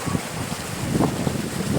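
Cool wind sweeping across green paddy fields, heard as a steady low blustery rumble buffeting close to the microphone, with no voices.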